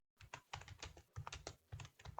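Rapid keystrokes on a keyboard while typing a message into an encrypted messaging app, coming in short clustered bursts of clicks with brief pauses between, close and fairly quiet.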